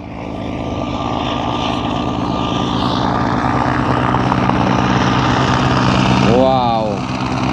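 Homemade five-seat helicopter flying a lap at an outdoor record event, its steady droning rotor and engine noise sustained throughout at close range, with a brief vocal exclamation near the end.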